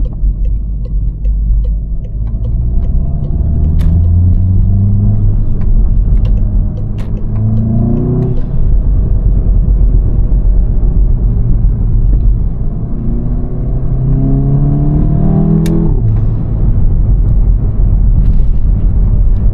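A VW Golf 7.5 GTI engine rumbles steadily from inside the cabin at night, rising in pitch through two gear changes as the car accelerates, loud and continuous.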